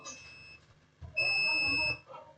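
A multimeter's continuity beep sounds as the probes touch the input MOSFET connection on a DC input section: one steady high electronic tone lasting under a second, preceded by a shorter faint beep and light handling noise.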